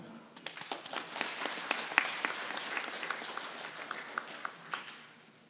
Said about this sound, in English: let's welcome him with random applause